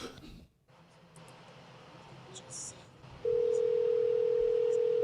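A steady telephone tone sounds loud and unbroken for the last couple of seconds after muffled background noise and brief beeps, the call going unanswered.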